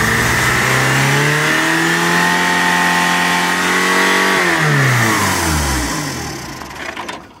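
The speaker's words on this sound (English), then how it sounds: "and again when it's cranking," A race car engine on a non-turbo circle track wiring harness runs loud and close, revving steadily with a sweeping rise and fall in pitch before dropping off and sputtering near the end.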